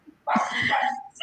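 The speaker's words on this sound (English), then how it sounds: "her dog is in the background participating in everything that we're doing" Dog barking in the background, one short muffled bark or yelp, fairly close, with little else around it.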